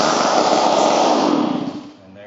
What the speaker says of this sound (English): he's just going to fire this saw. He's going to pull and pull and pull until it kicks and fires up